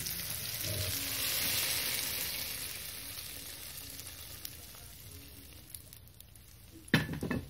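A hot tempering hits moong and masoor lentil dal with a strong broad sizzle that slowly fades to a softer simmering hiss, then a sharp clink of a pot or utensil near the end.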